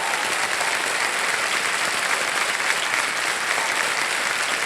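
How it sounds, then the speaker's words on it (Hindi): Studio audience on the quiz show Kaun Banega Crorepati applauding, a dense, steady burst of many hands clapping loudly and evenly for several seconds with no talk over it. "ताली बज जाए इनके लिए।"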